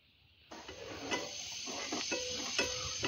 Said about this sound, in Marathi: 1 वाटी मी रेडीमेड खोबऱ्याचा कीस हा वापरलेला आहे, तोही आपण अगदी हलकासा ब्राऊन कलरचा होईपर्यंत या तुपामध्ये फ्राय करून